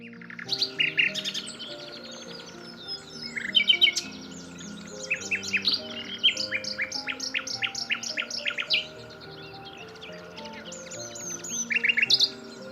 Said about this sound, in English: Nightingales are so named because they frequently sing at night.